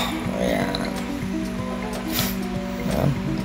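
Diced tofu for sisig stirred in a pan, giving soft, steady squishing and sizzling scrapes that run continuously at close range under a layer of other sound.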